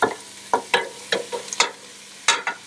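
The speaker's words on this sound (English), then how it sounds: "now I'm gonna add my mushrooms in it right away, because the mushrooms, the onions, the celery," Mushrooms, onions and celery stirred in a hot pan, giving a steady sizzle with several sharp scraping stirs of a utensil at irregular intervals, close and clear with no talking.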